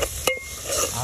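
Onions fry in a pan during outdoor cooking of a mutton curry, a short burst of sizzling and stirring with a couple of scraping utensil knocks against the pan.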